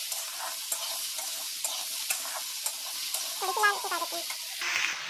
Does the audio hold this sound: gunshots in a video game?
no